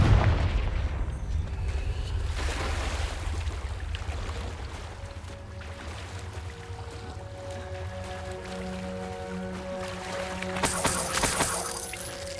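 Fiery Confringo blast spell exploding in Hogwarts Legacy, a booming burst at the start that rumbles on beneath a dense game soundscape of low drones, tonal music and scattered impacts, with a bright crackling flare near the end.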